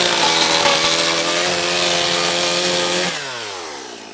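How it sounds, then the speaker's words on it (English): A Dremel rotary tool cuts holes in the bed of a Polaris Ranger XP 1000 UTV. A loud, harsh, continuous grinding whine runs close by, then spins down with a falling pitch near the end. "with a Dremel. And guys, we're going to watch him go ahead and cut this bad boy out."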